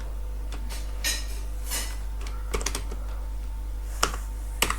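Keystrokes tapped on a computer keyboard while entering an address into a web design page on Windows, arriving in scattered short bursts with a few sharper clicks, close and clear over a steady low hum, with no voices.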